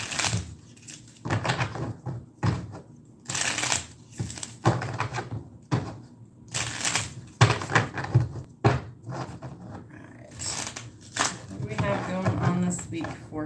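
Tarot cards shuffled by hand during a reading, with repeated riffling and rustling bursts and soft taps, close up and broken by short pauses.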